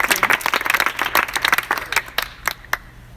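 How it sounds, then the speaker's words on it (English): A small workshop group in a circle applauds themselves with brisk, close clapping that tapers off into a few scattered final claps after about two seconds. "Give yourselves a round of applause because you did complete."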